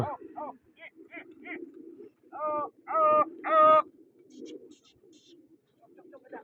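Pigeons cooing nearby, several rounded throaty coos in short bursts, the loudest swelling around the middle, with low background murmur between calls.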